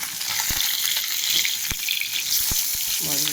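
Prawns frying in hot oil in a pan, a loud, dense, continuous sizzle heard close up, with a few soft knocks.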